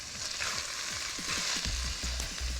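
Spinach and artichoke vegetables sauté in a hot pan with a loud, dense sizzle. Low thumping stirs and utensil knocks recur against the pan throughout, with no talk.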